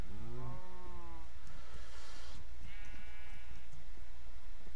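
Sheep bleat in a farming video game, several wavering cries up front and another fainter bleat midway, standing out over a low steady background hum with no talking.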